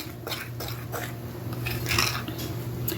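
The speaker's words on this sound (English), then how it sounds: "just add a little bit at a time, and this is what I'm doing, stirring it up." A spoon stirs strawberry cake frosting made with powdered sugar in a bowl, giving soft repeated scraping and clinking strokes in a steady rhythm, close and fairly quiet.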